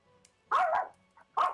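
A puppy barks indoors during a tabletop D&D game session, giving a couple of loud, close yaps with a short gap between them and a faint yip before them.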